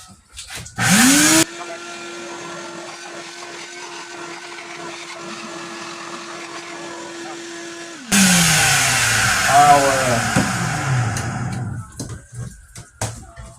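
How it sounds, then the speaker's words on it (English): A vacuum cleaner runs across a Dodge Durango engine bay during an oil cooler replacement, starting with a loud burst, then humming steadily with a whining tone before surging louder and tapering off. "I'm gonna run the vacuum across that real quick."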